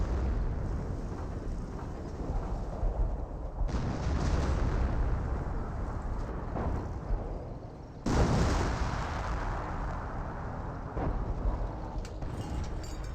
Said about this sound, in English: Yeah, more artillery.